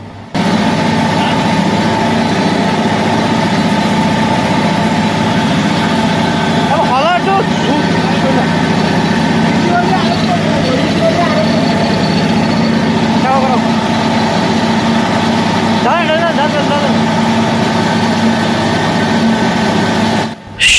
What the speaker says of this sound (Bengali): এখানে দেখতে পাচ্ছেন আমাদের মোটরটি 41-42-43 এম্পিয়ার লোডে খাচ্ছে মাত্র